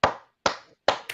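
Three crisp hand claps sound alone at an even, unhurried pace, close and moderately loud, with a small tap after the last one.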